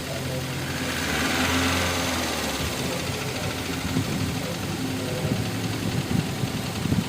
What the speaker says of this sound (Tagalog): Medyo malamig yung makina pa niya, kaya medyo maingay pa.